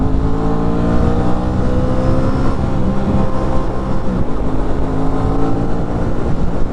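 An Aprilia RS660 motorcycle engine drones at a steady, loud, even pitch while the bike cruises on cruise control in chilly weather, with constant wind roar and no change in revs.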